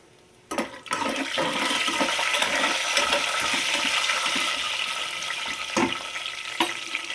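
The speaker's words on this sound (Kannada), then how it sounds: "ಗೋಡಂಬಿ ಸ್ವಲ್ಪ ಫ್ರೈ ಆಗಬೇಕು" Cashews fry in hot ghee in a pan for ghee rice, and a loud, steady, hissing sizzle starts suddenly and carries on without talk.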